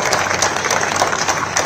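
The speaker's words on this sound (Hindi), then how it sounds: "सम्मान में जोरदार तालियों से स्वागत।" A crowd at a political rally in Rajasthan claps loudly and continuously, dense overlapping hand claps filling the whole short stretch at a steady, close level with no voices on top.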